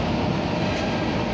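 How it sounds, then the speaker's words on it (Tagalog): An MRT train in Manila near Trinoma at night, a loud, continuous low rumble and roar of the rail cars running close by, with no voices. "so sasakay na tayo MRT"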